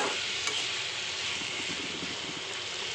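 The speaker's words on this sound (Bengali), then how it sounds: "কাচকি শুটকিটা না একটু কড়া করে ভাজতে হয়" Dried kachki fish frying with garlic in a pan gives a steady, close, continuous sizzle with faint crackles and stirring scrapes, no voices.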